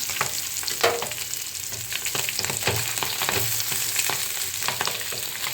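Pabda fish frying in hot oil in a pan, a dense close sizzle broken by sharp irregular spluttering pops and crackles, with occasional scraping of a utensil, steady and fairly loud throughout.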